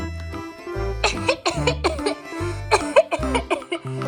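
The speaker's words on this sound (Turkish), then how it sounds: "Öksür bakalım" A small cartoon girl coughs several times in short bursts over steady background music, the coughs close and fairly loud, while sick with measles at a doctor's visit.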